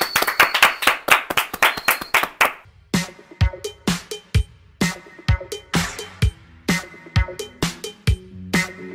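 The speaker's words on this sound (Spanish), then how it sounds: "Pues un fuerte aplauso" A small group claps in a quick, dense burst at first, then settles into slower, separate, uneven claps that carry on to the end, close and fairly loud with no voices.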